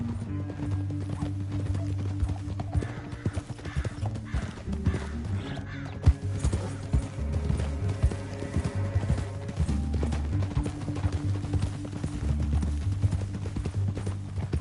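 Several horses gallop in the video game Red Dead Redemption II with steady, rapid hoofbeats, a whinny rising briefly, set against a continuous musical background.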